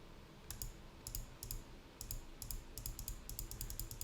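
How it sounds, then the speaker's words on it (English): Rapid computer mouse clicks in short irregular bursts of two to four, close and crisp over a low background hum, with no talking. "So I'm clicking all around."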